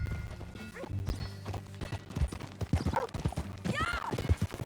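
Horse hooves clop and gallop across dirt in Red Dead Redemption 2, a steady rhythm of close thuds under brief character voices, with a horse whinny near the end.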